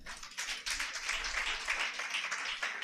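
A congregation claps together at a church sermon in a steady, dense burst of applause that carries on throughout, moderately distant, with no talking over it.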